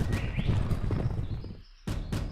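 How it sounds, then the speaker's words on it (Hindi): A horse in an animated film gallops away: quick, loud hoofbeats pound in a rapid run, drop out briefly, then return as a few more sharp hits. "ओह, ये इडियट घोड़ा भी हमें पटक कर भाग गया।"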